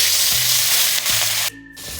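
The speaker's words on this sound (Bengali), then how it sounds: "কড়াতে সরষের তেল গরম করে নিয়েছি। এবার মাছগুলো একে একে ভেজে নেবো।" Rohu fish frying in hot mustard oil in a kadai, giving a loud, steady, close sizzle that dips briefly near the end before carrying on.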